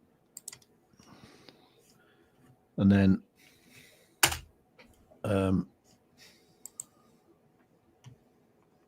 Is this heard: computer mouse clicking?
yes